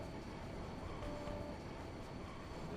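Train in the video game Final Fantasy 8, a continuous low rumbling rail hum with faint rhythmic texture, steady and moderately quiet throughout with no talking.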